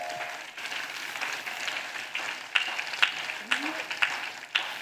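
An audience at a Christian revival service claps under loud preaching, with the scattered claps running steadily behind the speaker's voice for a few seconds.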